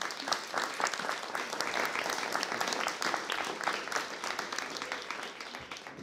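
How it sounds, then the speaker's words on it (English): An audience at a panel on reducing gun violence applauds the panel, a steady, fairly distant wash of many hands clapping that holds throughout. "Can you give our panel a round of applause?"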